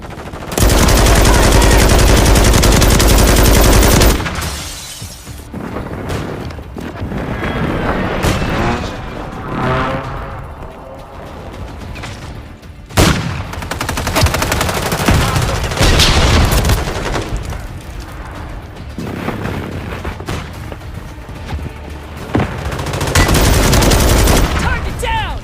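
Loud video-game gunfire crackles in rapid bursts and heavy booms during a timed multiplayer match, with dense automatic fire and impacts crowding the scene and voices calling out now and then over the shooting.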